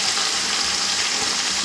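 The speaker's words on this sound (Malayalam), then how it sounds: "ഇതിൽ കുറച്ച് വെളിച്ചെണ്ണ ഒഴിക്കുന്നുണ്ട്. ഇത് നല്ലോണം ചൂടായി വരണം. ഇതിലേക്ക് കുറച്ച് ഉള്ളി ഞാൻ പൊരിക്കാൻ വേണ്ടി വെക്കുന്നുണ്ട്" Onions fry in hot coconut oil for a Kozhikode-style chicken biryani, making a dense, even sizzle that hisses close and loud with no voices over it.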